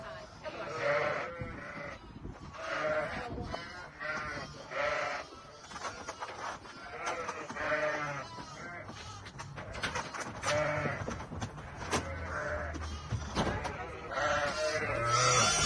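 Ewes being let out of pens inside a shed and loaded into a trailer bleat repeatedly and overlap one another, with frequent nearby baas over shuffling and general farm noise.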